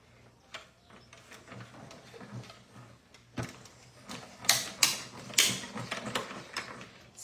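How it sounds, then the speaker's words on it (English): Die-cutting machine pressing card through a die under a cutting pad, giving a series of close mechanical creaks and ratcheting clunks, louder bursts toward the end. "So next, I'm going to put the cutting pad on top and cut."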